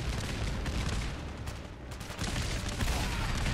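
Sustained gunfire from settlers and defensive turrets in the video game Fallout 4, a dense, continuous barrage of overlapping shots and booms, loud and unbroken throughout.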